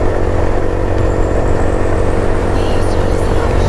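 A motorcycle cruising on a highway produces a loud, constant engine drone mixed with heavy wind roar, recorded close and steady with no pauses.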